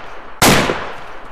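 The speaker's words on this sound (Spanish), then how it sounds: "Oigo disparo." A single loud gunshot, likely from a video game, bursts sharply out of a steady background of game ambience, then rings off as it fades.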